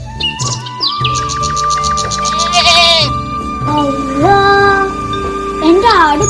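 A goat bleats several times in wavering, drawn-out cries, loud and close, with chirpy bird-like calls mixed in.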